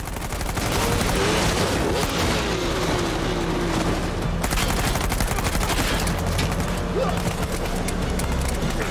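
Dense in-game gunfire from Uncharted 4 rattles on continuously, bursts and single shots blending into a steady loud fusillade with booms underneath.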